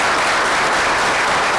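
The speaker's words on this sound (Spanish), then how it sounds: "vale el aplauso para ustedes" A crowd applauds sports champions at a dinner ceremony, a brief burst of dense, steady clapping heard alone and fairly loud throughout.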